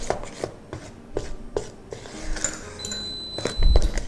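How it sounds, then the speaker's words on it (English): Fruit being mashed for muffin batter, giving a series of soft, irregular squishing and tapping strokes close by, with no talking. "mash them up a little bit to get a little bit of the juices released"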